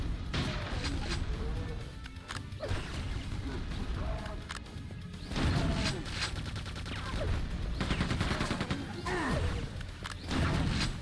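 Shotgun blasts from Quake II: The Reckoning ring out amid dense game combat noise, several loud bursts spread across the stretch with a voice talking over parts of it.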